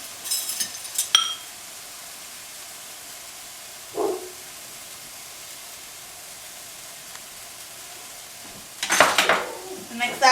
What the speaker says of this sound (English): Mix that in really, really well.